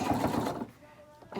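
A sewing machine runs a short, fast burst of back stitching on a fabric face mask, then stops abruptly, leaving a quiet pause.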